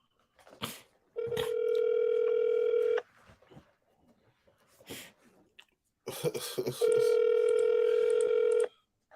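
A telephone ringback tone while placing a call, two long steady tone bursts separated by a pause, with close coughs, mouth noises and shuffling around them.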